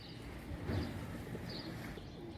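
Soft pigeon cooing murmurs low and steady amid a faint background hum, with a few brief chirpy calls mixed in.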